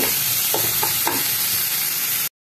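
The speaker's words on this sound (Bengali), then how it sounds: "এবার পেঁয়াজটাকে একটু ভেজে নেব" Onions fry in a pan with a steady close sizzle, a few spatula scrapes and clicks in the first second, before the sound cuts off abruptly.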